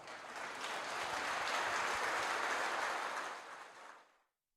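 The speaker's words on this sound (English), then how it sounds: "Give him a round of applause." Applause from an audience at a Sunday tribute gathering swells quickly into a full, steady round of many hands, holds for a few seconds, then tapers away to silence.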